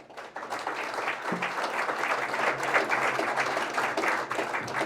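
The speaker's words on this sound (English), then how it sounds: "Let's give this panel a round of applause." An audience at an energy briefing gives a panel a sustained round of applause, dense clapping that swells after a short quiet start and carries on throughout.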